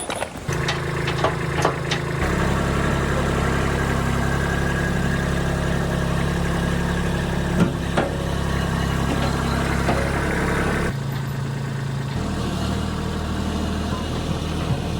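A tractor engine idles outdoors in the rain, a steady low rumbling drone with constant vibration that shifts pitch slightly a few times, close and continuous, with occasional clanks and knocks over it.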